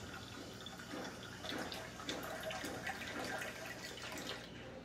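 Water pours steadily into a container, giving a continuous splashing, trickling wash at close range with no speech.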